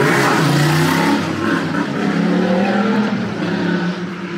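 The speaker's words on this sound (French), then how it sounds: "Il a fait d'une roue, il a accéléré, je déteste les motos." A motorcycle engine revs hard and accelerates while doing a wheelie, its roar rising and loud throughout, with a whining, skidding edge as it speeds past nearby.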